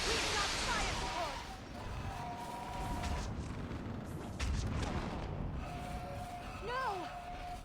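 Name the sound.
artillery fire support in video game Mass Effect 3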